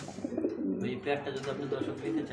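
Magpie pigeons coo in low, repeated throaty calls close by, steady over a couple of seconds, with people talking alongside.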